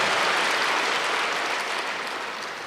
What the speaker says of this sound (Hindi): बाबा कहते बहुत बच्चे जोर से ताली बजाओ उनके लिए